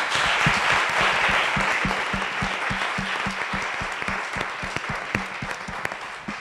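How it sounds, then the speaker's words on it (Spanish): An audience at an academic conference session gives a round of applause after a talk, dense clapping that starts strong and gradually thins into scattered, distinct claps toward the end. "Un aplauso, por favor."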